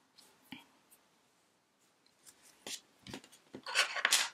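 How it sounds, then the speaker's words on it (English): Scissors snip off the end of crochet yarn on a small mini bunting piece, a few quiet isolated cuts at first, then a quick cluster of louder crisp snips close up toward the end. "And then you can go ahead and snip off that end."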